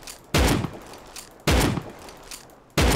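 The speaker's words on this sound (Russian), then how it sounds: "Зажимаю просто до упора левую кнопку, смотрим темп стрельбы" Three loud bursts of rapid automatic rifle fire in the game Rust, each a dense stream of shots followed by decaying echo, separated by short pauses.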